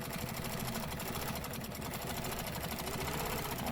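A sewing machine steadily stitching quilting framework lines, a continuous fast mechanical whir and rapid needle chatter at fairly low level, running alone without pauses.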